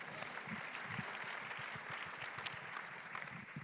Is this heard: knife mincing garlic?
no